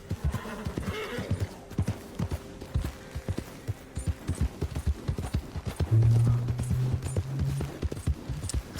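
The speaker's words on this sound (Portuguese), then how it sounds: "Cheio de cavalo aqui, ó." Horse hooves clip-clop in Red Dead Redemption 2, a steady run of hoof strikes at moderate distance with a whinny and some rumbling in the game world, no talk.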